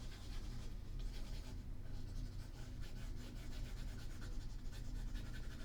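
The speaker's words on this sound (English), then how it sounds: "I'm going to erase this." Steady dry rubbing of an eraser across a board, wiping away written math in a lecture setting, continuous scratchy swishes at close range with no talking.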